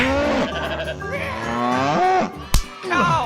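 Cow mooing from a toy farm diorama scene, several long drawn-out moos in close succession, loud and near, with a short sharp knock partway through.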